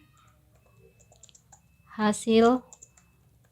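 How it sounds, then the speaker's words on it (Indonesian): Faint, steady clicking of keys as someone types on a computer keyboard into a Word document during a computer skills practice session, with a short spoken phrase rising over the quiet tapping. "Pertama saya akan mengetik dulu."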